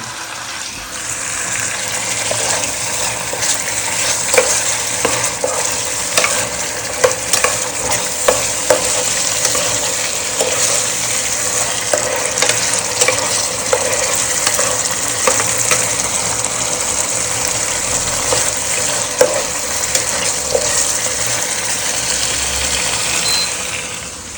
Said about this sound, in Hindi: तो सालन हमारा गर्म हो गया, ऐसे कर दो प्याले में